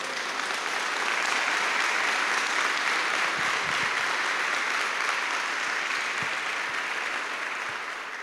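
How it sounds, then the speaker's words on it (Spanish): Steady, dense applause from a large church congregation, sustained and even throughout, close and full. "Le damos un fuerte aplauso al Señor por eso."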